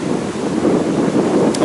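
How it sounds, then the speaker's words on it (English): Strong wind buffets an outdoor microphone in a steady, loud, low rumbling roar with small gusty surges throughout and no voices. "I wonder how windy this is proving to be."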